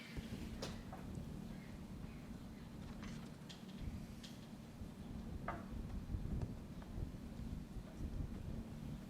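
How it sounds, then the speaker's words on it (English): Strong gusty wind roars across an open disc golf course at the Cachuma Classic, a steady low buffeting rumble on the microphone with a few faint sharp ticks scattered through it. "you can see the wind is ripping"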